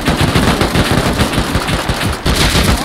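Rapid automatic gunfire in the survival video game Rust during a raid on a base, a dense, loud continuous burst of shots with a brief gap before firing resumes.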